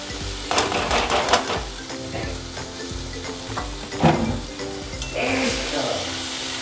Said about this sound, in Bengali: এবার তরকাটা দিয়ে দেবো।